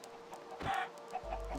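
Minecraft chickens cluck in short, soft bursts on a farm in the blocky game, with a brief louder squawk and a low steady hum underneath.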